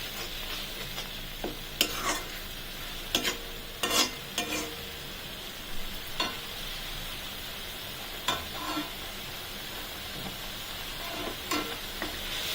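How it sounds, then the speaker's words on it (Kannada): Onions fry in a pan for a potato gravy, giving a steady soft sizzle broken by repeated scraping stirs of a spoon against the pan, close and fairly quiet, with no talking. "ಫ್ರೈ ಆಗ್ತಾ ಇದೆ."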